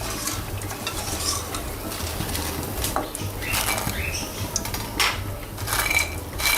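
Honey masala chips frying in hot oil, giving a steady crisp sizzle and crackle with occasional scraping and stirring clatter from a pan, fairly close and continuous with no talk.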